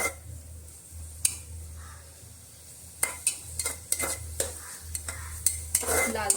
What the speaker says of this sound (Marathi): हे सर्व आपण छान भाजून घ्यायचं आहे.